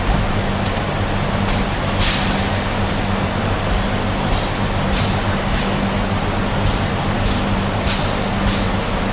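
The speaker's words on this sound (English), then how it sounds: "we're going to make that brake application" A truck's air brakes are applied and released over and over at 90 PSI, giving sharp, loud bursts of hissing air in an irregular series over a steady low idling rumble.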